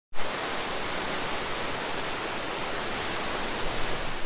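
The Neer waterfall in India cascades from above in a dense, steady roar of falling water that starts abruptly and stays loud and even, like a constant close rush of white noise.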